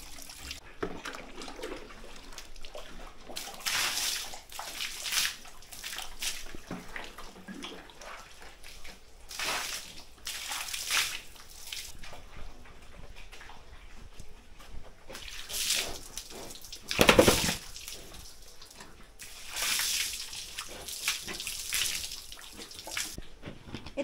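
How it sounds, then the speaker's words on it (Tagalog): Water gushing from a hose and overflowing on a pig farm, intermittent bursts of splashing and trickling at close range over a quiet background, with faint voices now and then. "Wala kaming bill sa tubig kasi overflowing guys ang tubig namin."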